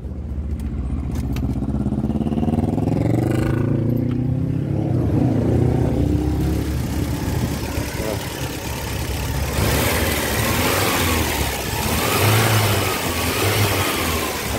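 A vehicle engine running on additive gasoline turns over and settles into a loud, close idle, with rising revs and rough surges throughout and no speech.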